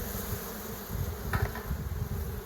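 Dense, steady droning of a honeybee colony in an open hive box in an apiary, close and continuous, with a few bees zipping past a little louder around the middle.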